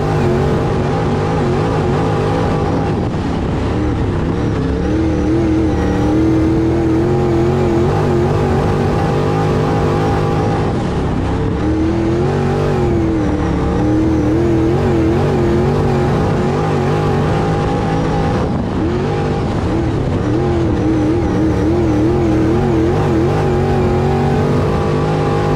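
IMCA modified race cars roar around a racetrack during a heat race, several loud engines revving and surging continuously as they pass close by.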